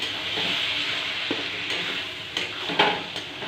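Cumin and chili paste sizzle and fry in a pan, a steady crackling hiss broken by a few light scrapes and clinks of a stirring spoon against the metal, with no talk.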